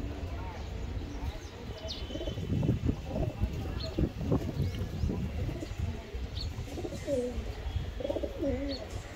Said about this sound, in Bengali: এখানে একজোড়া ইন্ডিয়ান ব্লাড লাইনের কবুতর আছে লাল বাজরা কবুতর দেখেন